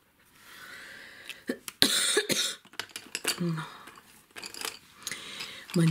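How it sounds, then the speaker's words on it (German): A person coughs a few times in sharp bursts, mixed with clicks and small rustles close by in an indoor craft setting, with short quiet gaps between. "Mein Husten ist seit über einer Woche da und es geht einfach nicht weg."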